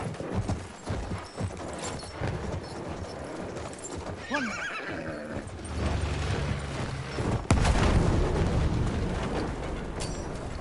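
A horse in the Battlefield 1 video game whinnies loudly and gallops with rapid clip-clop hoofbeats, amid distant battle noise and gunfire.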